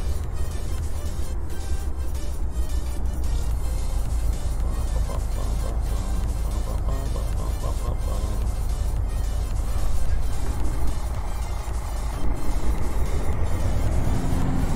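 A Freightliner Argosy truck engine in American Truck Simulator, heard as a steady low rumble that slowly winds down in RPM with a lingering drone and little change in loudness, without speech.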